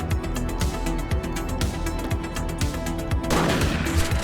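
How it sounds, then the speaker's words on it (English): Gunfire in the video game The Precinct during a rooftop pursuit: rapid bursts of shots crackle through a dense, loud game soundscape, with a heavier blast near the end. "He's shooting!"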